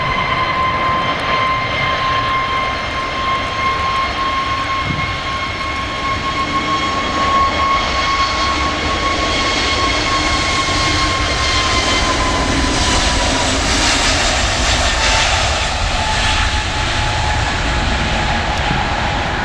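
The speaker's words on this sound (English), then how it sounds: "engines are already throttling up, spooling up" An airliner's jet engines spool up for takeoff, a steady loud roar with a sustained whining tone that holds and slowly shifts, heard alone without voices on a rainy day near Manchester.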